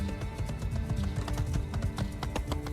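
Horse hooves galloping in My Time at Sandrock, a steady run of clip-clop beats close up and even in level throughout, layered over a droning game music bed with no talk.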